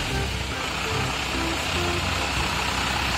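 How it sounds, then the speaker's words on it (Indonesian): A garbage truck's engine drones loud and steady and close by, with intermittent tonal beeps riding over the rumble. "lalu selanjutnya juga ada truk sampah teman-teman"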